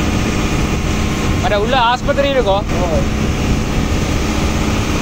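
A boat ambulance engine running at sea off Neduntheevu island: a loud, steady, close drone throughout, with people briefly talking over it.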